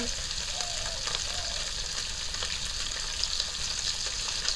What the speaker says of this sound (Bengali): ওইদিকে মাছটা আমার ভাজা হচ্ছে এদিকে পেঁয়াজটা আমি শুকিয়ে নিচ্ছি